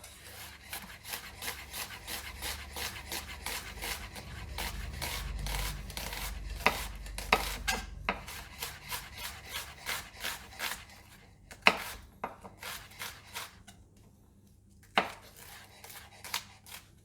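Onions, shallots and garlic are chopped with a knife on a board in rapid, regular close knocks. The rhythm runs through most of the clip, thins into scattered cuts near the end, and includes a few sharper hits and some scraping, with no voices.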